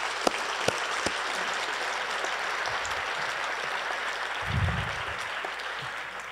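Sustained applause from an audience at a Yom Hashoah 2019 remembrance gathering in San Diego County, a steady wash of clapping filling the hall for the whole stretch with a few louder nearby claps.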